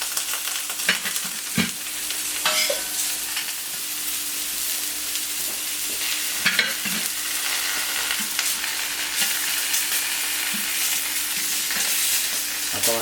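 Beef tournedos (château-filet) searing on a hot plancha, giving a steady, close sizzle with scattered light taps and clatter throughout and no voices.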